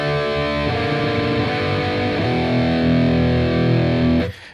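Distorted electric guitar plays a heavy riff, sustained power chords changing every second or so with a steady, loud, dense tone alone, then cutting off abruptly near the end.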